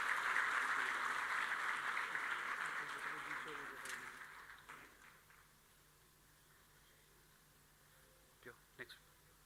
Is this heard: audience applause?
yes